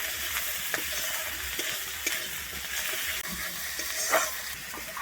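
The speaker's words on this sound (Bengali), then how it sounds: "আমি আদা রসুন বাটাটা কিন্তু একইভাবে দিয়ে ভেজে নেবো" Ginger garlic paste frying with onion in oil sizzles steadily at moderate volume, with scraping stirs and small spatters, no voices.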